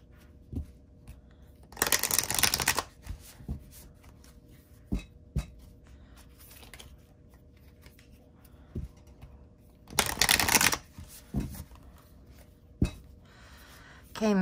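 Moonology oracle cards being shuffled in two bursts of riffling, each lasting about a second, with scattered light taps and card clicks between them at close range.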